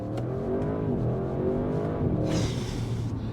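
An Audi RS 6 Avant engine runs steadily with a deep, rumbling tone, rising slightly in pitch partway through as if revving, with a brief hiss near the end.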